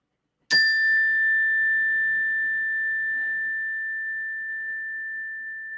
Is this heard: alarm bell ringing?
yes